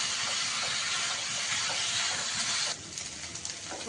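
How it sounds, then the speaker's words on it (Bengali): Minced mutton keema frying hard in a pan over high flame gives a loud, steady, broadband sizzle and hiss that fades somewhat near the end. "এবার আমি হাই ফ্লেমে এটাকে দশ মিনিট একটু কষিয়ে নেবো ভালো করে"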